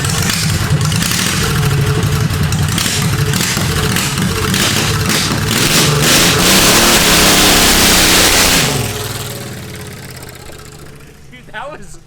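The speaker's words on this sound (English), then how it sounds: "see if this thing will spin the tire" A VW Beetle powered by a lawn mower engine does a burnout, its small engine roaring loud and steady for several seconds with rising hiss before dropping back toward an idle, with voices mixed in.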